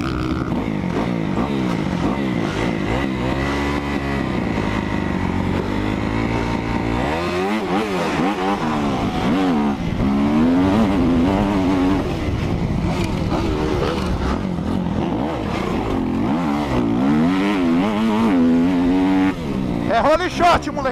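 A Kawasaki KX250F dirt bike engine revs hard during a motocross race, its whining, buzzing note rising and falling continuously and loudly, with excited shouting voices over it throughout.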